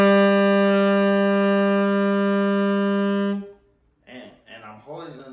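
Saxophone holding a steady A, loud and close for about three seconds before it stops and a voice follows.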